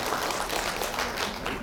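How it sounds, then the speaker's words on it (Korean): A lecture audience at a book launch talk on taxes breaks into dense, continuous clapping that holds steady at a fairly loud level throughout. "박수 한번 쳐줘봐요."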